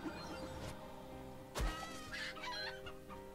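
A chicken clucks in the fantasy role-playing game Divinity: Original Sin, with short low clucks over a steady soft game ambience and one sharper burst midway.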